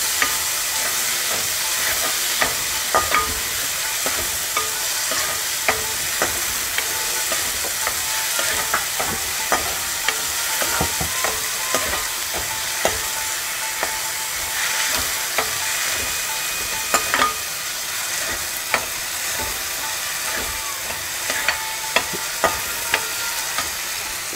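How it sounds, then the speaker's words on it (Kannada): Chopped tomato fries in hot oil in a pan, a steady sizzle and hiss with frequent scraping taps of a spoon stirring, close up and without talk. "ಇವಾಗ ಟೊಮೆಟೊ ಹಾಕ್ತಾಯಿದ್ದೀನಿ. ಟೊಮೆಟೊ ಚೆನ್ನಾಗಿ ಫ್ರೈ ಆಗಬೇಕು."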